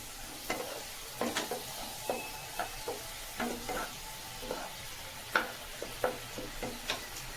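Vegetable curry of green banana, potato, yardlong beans and fish bones with turmeric, salt and a little sugar gets stirred in a pan, a spoon scraping in irregular knocks over a steady low sizzle, with no talking.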